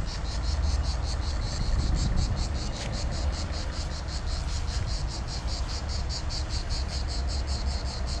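Crickets or similar insects chirp steadily outdoors beside a narrow mountain road in Italy, a loud, continuous pulsing trill running unbroken throughout, with a low rumble of wind or distant traffic underneath.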